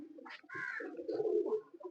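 A pigeon coos softly and close in a couple of short, low, throaty calls, quiet with no talk.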